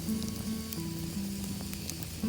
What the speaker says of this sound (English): This firewood's a little wet, as you can hear it sizzling.